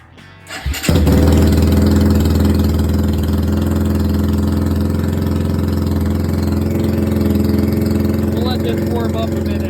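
A BD 250-7 Venom Motorsports cruiser motorcycle with a NOS kit fitted starts up with a short cranking burst, then settles into a steady, close, loud rumbling idle that holds throughout.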